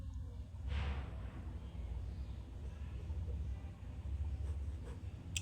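Pen writing out a question on paper or a board, a continuous faint scratching over a steady background hum, with no talking.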